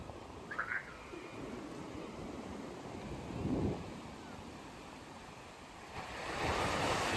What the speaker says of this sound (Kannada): ನೋಡಿ ಎಲ್ಲ ಅಲೆಗಳೆಲ್ಲ ಜಾಸ್ತಿ ಆಗೈತೆ ನೈಟ್ ಆಗಿರೋದ್ರಿಂದ.